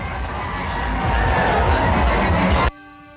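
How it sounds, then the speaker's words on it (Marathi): Crowd of Maratha supporters around a stage at a Mumbai protest rally cheering together, a loud roaring mass of shouts that swells and then cuts off abruptly. "स्टेज सभोवतालच्या मराठा बांधवांचा एकच जल्लोष बघायला मिळाला"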